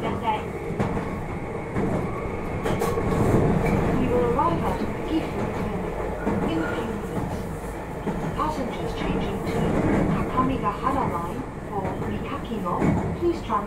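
Meitetsu 1200 series limited express train running from Chubu Centrair International Airport to Gifu, a steady, fairly loud interior rumble with rail clatter throughout, under intermittent onboard announcements.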